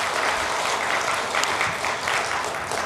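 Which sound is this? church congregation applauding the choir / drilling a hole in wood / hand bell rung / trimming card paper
church congregation applauding the choir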